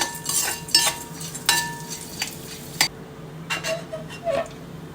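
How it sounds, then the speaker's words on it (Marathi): Split gram dal roasting and being stirred in a pan while making curry leaf chutney: a quiet, dry scraping and light clinking of a spoon in a few separate strokes, fairly close, with faint sizzle between them and no talk. "आता मी या डाळ्या घालते डाळ्याही छान परतून घेते"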